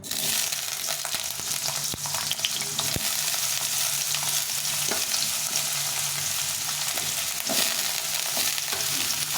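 Potatoes fry in a pan until reddish-brown, giving a steady, close sizzle with faint scrapes of stirring and an occasional sharp click, continuous and without voices.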